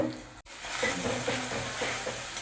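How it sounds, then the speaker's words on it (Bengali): Spice paste for a fish head curry sizzles loudly in hot oil while being stirred and fried, giving a close, continuous crackling fry with scraping stir strokes and a brief cut near the start. "পনেরো মিনিট মানে ধরে কষবো মশলা যতক্ষণ টেস্ট বাড়বে"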